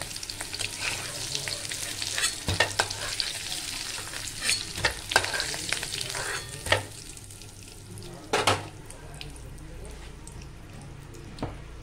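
Potatoes fry in oil, giving a continuous crackling sizzle broken by scattered spoon scrapes and knocks against the pan, close and moderately loud, with a voice talking faintly over parts of it.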